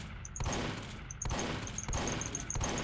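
Four or five heavy shotgun blasts in the video game Team Fortress 2 fire at a steady pace, each a loud broadband boom, with faint high clicks and pings between them.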